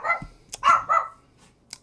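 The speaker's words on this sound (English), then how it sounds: "I don't know why the dogs are so active today." Dogs bark in a few quick, sharp yaps close by, spread across under two seconds with short gaps between them.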